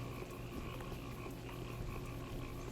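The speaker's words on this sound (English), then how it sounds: "Frog noises." A dense chorus of frogs croaking steadily in the video game Pathologic, a continuous layered ambience with no talk.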